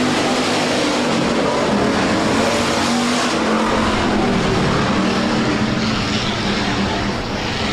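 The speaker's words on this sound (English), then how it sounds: "As the USRA Hobbies make their way into turn number 4, head flagman Cody Johnson gives them the gr" USRA Hobby Stock race cars at Rapid Speedway roar loudly and continuously in a dense pack of engines as they take the green through turn four on a dirt oval.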